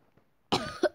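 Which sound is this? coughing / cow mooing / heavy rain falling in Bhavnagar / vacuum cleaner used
coughing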